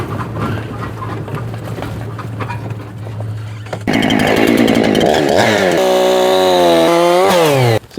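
Chainsaw mounted on a trailer runs loud and close, idling with a rattling chatter before revving up to a high, steady whine that rises and falls.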